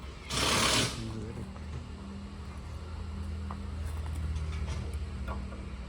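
Engine-driven paddy threshing machine with a 5.5 HP engine, running steadily nearby as a continuous mechanical drone with a rhythmic low hum, a brief louder whooshing burst near the start.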